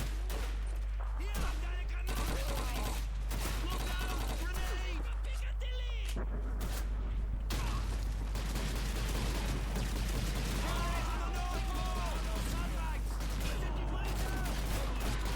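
Call of Duty 2 artillery and gunfire boom and crackle repeatedly in rapid bursts over a constant low rumble, with a voice talking intermittently over the action.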